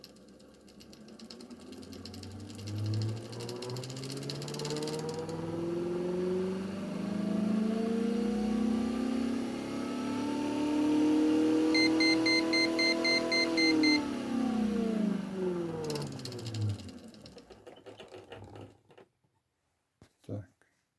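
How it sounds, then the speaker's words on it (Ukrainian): A magnetic generator on a recuperative drive setup runs up in speed, giving a rising and then steady electric motor whine with climbing harmonics, interrupted by a few short beeps, before spinning down near the end. "І тепер я буду додати оберти"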